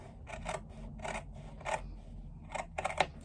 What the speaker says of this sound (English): and just use my scissors to make a small cut on that sort of central line.